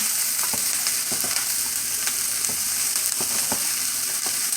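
Onions fry in a pan for vegan fried rice, a loud close hiss of sizzling oil running unbroken, dotted with small crackles and light stirring taps, with no voices.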